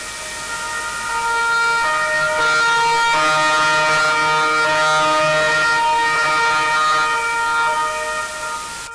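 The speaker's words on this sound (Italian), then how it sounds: "Sirene spiegate come un urlo di dolore a rompere un silenzio irreale" Sirens blare in unison at a police memorial in Trieste for two slain officers, a loud sustained wail with layered tones swelling and fading over several seconds, with no talking over them.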